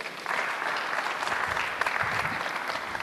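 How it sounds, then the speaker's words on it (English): Steady applause from a crowd, clapping densely and continuously for about three seconds, fairly loud and close. "Give her a round of applause."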